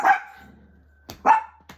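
Small dogs bark at home: two or three short, sharp, close barks separated by brief pauses, loud against a quiet background.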